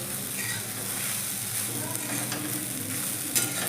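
Sabudana khichdi roasts in a pan with rock salt, giving a loud, continuous sizzle and frying hiss with light stirring scrapes throughout and no talk.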